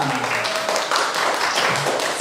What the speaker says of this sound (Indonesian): Tepuk tangan untuk regu A.